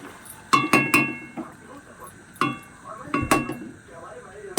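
Metal pots and dishes clink and knock in sharp, scattered bursts as cooked shrimp and vegetable curry is transferred into a bowl, several bright clatters close by against a quiet kitchen background.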